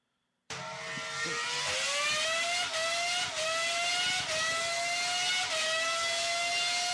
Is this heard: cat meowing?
no